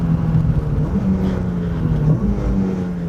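A race car's engine drops down to second gear on the Phillip Island circuit, loud and close from inside the cockpit, the pitch shifting as revs change over a few seconds.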